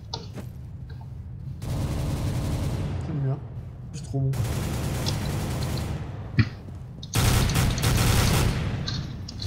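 Gunfire in the shooter game CS:GO, bursts of rapid automatic shots in three sustained volleys with short gaps between, loud and close, with a few isolated single shots.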